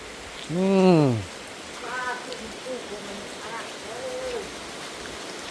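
Rain falls steadily in a constant hiss while people's voices rise and fall faintly over it.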